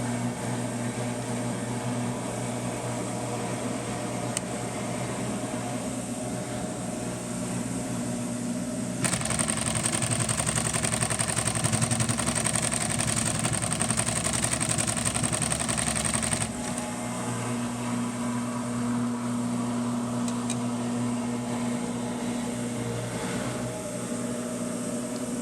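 A Camatron Class 68 large-bobbin industrial sewing machine with an Efka servo motor hums steadily, rising into a louder, brighter whir of sewing for several seconds in the middle before settling back to a lower idle drone.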